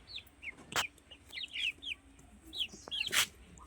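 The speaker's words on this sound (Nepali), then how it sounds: "यो हुर्किसकेको कुखुरा हो," A grown hen near a winter vegetable garden clucks in short, repeated calls, with a couple of sharper noises between them, close and moderately loud, no speech.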